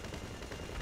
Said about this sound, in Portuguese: Tô jogando bomba.